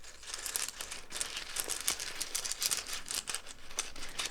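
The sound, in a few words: shuffling runes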